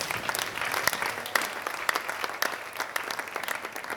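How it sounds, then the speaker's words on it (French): Festival audience at the ZABA festival in Pointe-Noire applauding a speech, a dense, steady wash of clapping with a few sharper claps standing out, sustained for about four seconds without talk. "Est-ce qu'on peut d'abord acclamer pour ça?"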